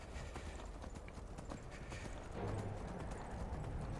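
Frost, a horse ridden in a survival video game, gallops with fast, steady hoofbeats that stay faint under a constant layer of ambient noise.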